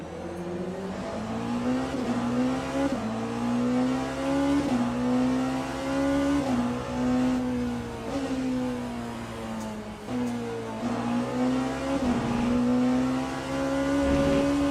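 A Porsche GT3 race car in the Le Mans Ultimate racing game drives hard, its engine droning loud and close, rising in pitch through each gear and dropping at every upshift.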